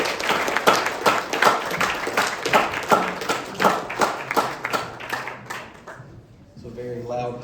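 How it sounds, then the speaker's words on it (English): A room of people applauds at a Court of Honor, a dense run of hand claps with a few sharper, louder claps standing out, fading into a voice at the end. "It's a very loud clap from the corner over there."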